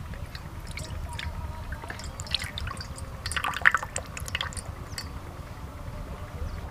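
Soaked tamarind pulp is poured in while making a fish fry, giving soft, faint wet drips and squishy splashes close by in a quiet kitchen.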